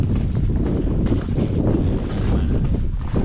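Strong wind gusts buffet the microphone on a boat at sea off a Thai island, a dense, continuous rumbling roar with rushing noise and no talk.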